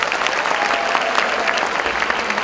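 An audience claps loudly and steadily for presenter couples at a university's tenth-anniversary celebration, a dense, even wash of applause throughout with a faint murmur of the crowd.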